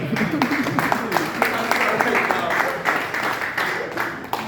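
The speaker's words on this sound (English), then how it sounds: "Please let's clap for Remy." Students in a classroom clap for a classmate, a scattered round of hand claps at moderate distance while a teacher keeps talking over it.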